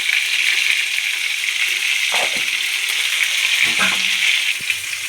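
Stuffed eggplant frying in hot oil in a pan, a loud steady sizzle with faint clinks of a utensil now and then, no voices.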